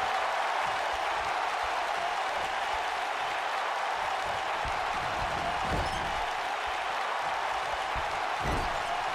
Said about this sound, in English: We've got a raucous crowd here in Philadelphia tonight